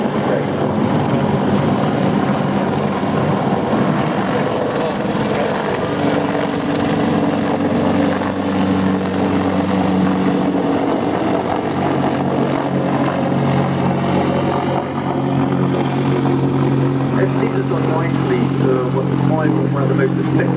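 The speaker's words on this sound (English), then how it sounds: "it can fly this manoeuvre you're seeing now without the pilots even touching the controls" An Apache attack helicopter flies a display manoeuvre at the Farnborough air show, its rotor and engine roar loud and continuous throughout, a commentator's voice running over it on the public address.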